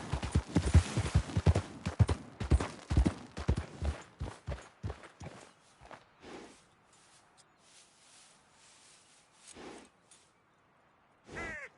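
A horse's hooves pound at a rapid, heavy gallop in Red Dead Redemption 2, loud at first, then slowing into sparser, quieter steps that trail off, with a few isolated thumps near the end.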